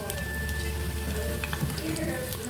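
Cauliflower 65 frying in a pan of oil gives a dense, even hiss, with a voice talking over the top through the short stretch.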